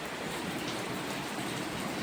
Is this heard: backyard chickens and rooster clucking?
no